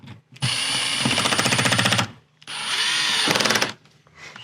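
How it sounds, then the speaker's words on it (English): A power drill bores holes through a steel bed hardware plate cut to sit on 16-gauge square tubing, in two loud, sustained whining bursts with rapid chattering, separated by a short pause. "and drill these holes out"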